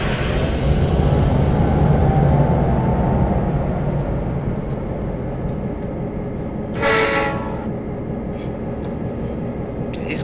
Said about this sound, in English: We'll hitch a ride onto the side of the diesel train.